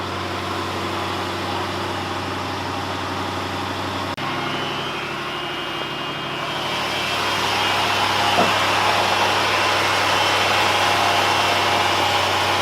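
A 1960 Ford Thunderbird convertible with a 352 V8 idles in a steady, close drone that grows slightly louder partway through, with no one talking.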